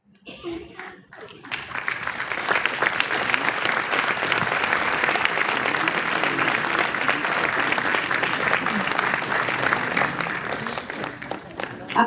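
Loud, sustained applause from a large congress crowd in Punta del Este, Uruguay, swelling in after a quiet start and continuing steadily, with a few cheers mixed in.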